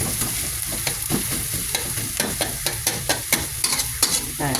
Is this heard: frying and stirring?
yes